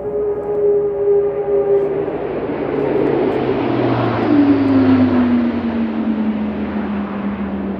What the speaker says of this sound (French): les avions de la base de Brissy passent au-dessus de la forêt